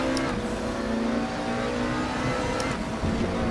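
A McLaren 650S GT3 race car in RaceRoom at Paul Ricard, its engine revving hard and pushing past the limiter, a loud sustained high-pitched drone with steady tonal whine and brief surges, close and without talk.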